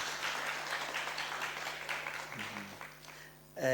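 At an all-white spring picnic media briefing, an audience claps steadily for about three seconds before it fades, then a voice comes in at the end.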